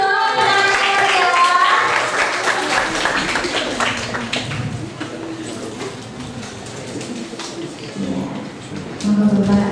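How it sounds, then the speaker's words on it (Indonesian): An audience at a cooperative management education event breaks into scattered applause, many hands clapping in a room as a voice speaks over it and the clapping fades. "Tepuk tangannya mana dong?"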